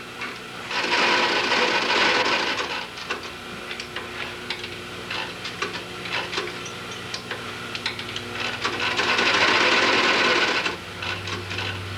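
A sewing machine stitches a shoe upper in two bursts of fast, rattling whirring, with quieter ticking and handling noises between them.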